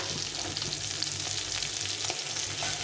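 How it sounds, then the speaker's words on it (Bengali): Fish fry in hot oil in a kadai, giving a steady, close sizzle with scattered small pops and crackles throughout, no voices. "এখন আমি তেল দিয়ে মাছটাকে ভালো করে ভেজে নেব"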